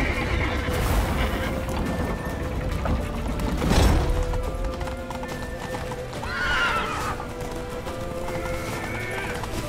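A horse whinnies loudly amid continuous galloping hoofbeats in The Witcher 3, with the clatter of a chaotic escape through a town going on throughout and a second, shorter neigh later on.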